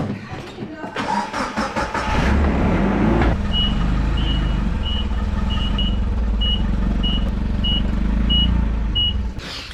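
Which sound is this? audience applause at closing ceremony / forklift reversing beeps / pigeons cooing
forklift reversing beeps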